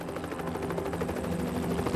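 A rescue helicopter airlifting injured hikers, its rotor chopping in a steady rapid rhythm, loud and continuous throughout.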